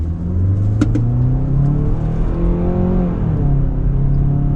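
A 2026 Kia Sportage LX AWD with a naturally aspirated engine drives down the road, giving a steady, loud engine hum and road rumble throughout with a slight rise in pitch as it picks up speed.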